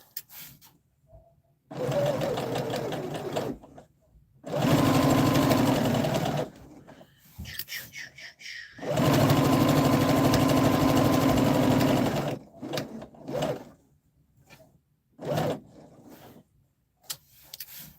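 A sewing machine stitches a dress seam in two long steady bursts of rapid whirring, separated by short pauses with light handling clicks; close and clear with no talking.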